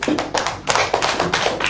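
A class of schoolchildren claps hands together in a primary school lesson, a dense, steady burst of many overlapping claps close by, loud and continuous with no talking.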